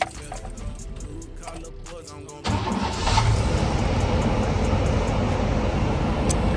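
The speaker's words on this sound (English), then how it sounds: "Let y'all hear it run. And this is a cold start" A truck engine cranks and catches on a cold start, then settles into a loud, steady, rumbling idle heard up close, with no talk over it.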